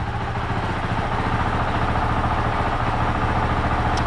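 A Honda CRF450RL motorcycle engine idles close up just after starting, a steady, even low thrum with fast regular pulsing and some mechanical clatter, loud and alone without talk.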